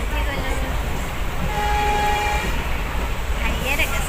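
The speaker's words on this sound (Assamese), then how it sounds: "এতিয়া আমি ট্ৰেইনত উঠি গ'লোঁ" A train running, heard from inside a carriage as a steady loud rumble with a faint tonal hum, and people talking over it.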